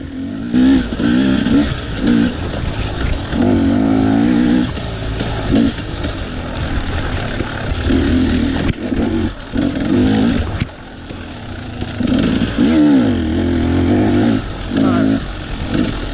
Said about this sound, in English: what sounds to be an air-cooled four-stroke